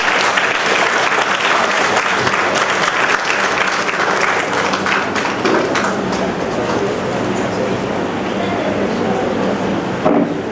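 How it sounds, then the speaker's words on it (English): A hall audience at a Sahajmarg birth anniversary gathering in Jubilate Hall, Vasco, gives a loud, sustained round of applause for the guest of honor, dense clapping that holds steady throughout and fades slightly near the end. "We welcome him with a huge round of applause"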